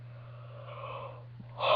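A single drawn-out yawn, soft and breathy, rising gently over a low background hum before a louder burst of breath at the end.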